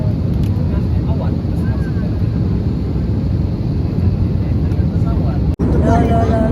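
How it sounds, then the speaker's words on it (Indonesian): Steady, loud cabin drone inside a Batik Air passenger plane in flight fills the clip, a constant low rumble with people talking over it. "Pesawat."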